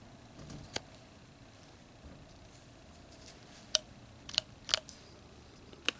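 Knife whittling excess wood from a 1-inch wooden block while carving a figure's ear, giving several sharp, brief cutting snicks scattered over a quiet background, a few in quick succession near the end.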